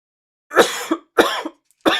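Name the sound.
coughing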